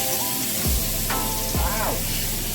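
NY strip steaks sizzle loudly and steadily in a hot pan, a dense continuous crackle with a couple of brief pitched whines and a soft thump layered over it.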